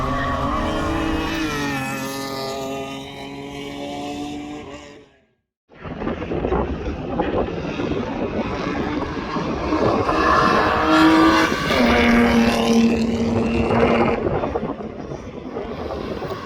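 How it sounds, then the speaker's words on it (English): Race cars lapping a circuit at Hampton Downs during a Superlap time-attack round, a Turbo Civic among them, sustained engine roar with gear-shift harmonics and wind buffeting, cut by a brief silent gap, then a car passing close and loud. "Dave Brew got out for his first stint of the day in the Turbo Civic."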